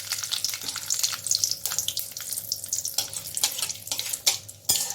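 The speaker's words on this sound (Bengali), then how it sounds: "শুকনো লঙ্কাটা আমি ফাটিয়ে দিয়েছি।" Two dried red chillies and black mustard seeds sizzle in white cooking oil, a close, uneven crackle with scattered sharp pops and spits over a low frying hiss.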